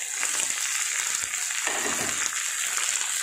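Chopped green beans and other beans tipped into a hot pan for a Kerala-style stir-fry, giving a steady, fairly loud sizzle throughout with a soft scrape of stirring midway, no talking.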